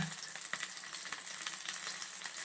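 Paneer cubes shallow frying on a tawa over a low flame make a soft, even sizzle with faint crackles, quiet and close, with no speech.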